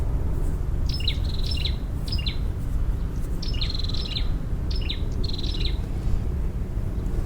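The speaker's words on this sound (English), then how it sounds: "These birds are beautiful." Birds chirp in short bright bursts of repeated notes, several calls spread out over a constant low background rumble, fairly near, with no talk.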